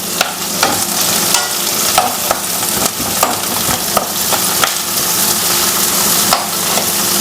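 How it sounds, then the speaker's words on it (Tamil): Onions, green chillies and curry leaves with cinnamon and fennel fry loudly in a pan, a steady sizzle broken by repeated scraping strokes of a ladle stirring, with no voices. "வெங்காயம் அதே வந்து ரெண்டு பச்சை மிளகா போட்டுக்கலாம் இதுலேயே கருவேப்பிலை போட்டுக்கலாம்"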